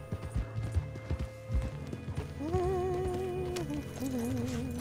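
Horse hooves clip-clop steadily in Red Dead Redemption 2, a quick run of hoofbeats at first, then slower steps under tonal music and faint background game sounds.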